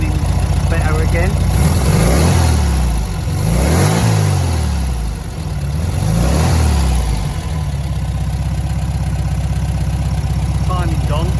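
Car engine after carburettor and timing adjustments, revving up in three rising-and-falling bursts, then settling into a steady idle, loud and close, with some voice faintly in the background.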